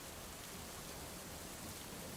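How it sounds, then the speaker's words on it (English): Steady rain falls as a theatre sound effect, a dense, even hiss of drops that fills the clip without any pause or voices. "I don't think this rain is going to stop for 2 more days"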